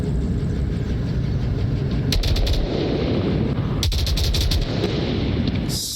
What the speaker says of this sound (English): Shots coming from Killinger into the tower just to try to confirm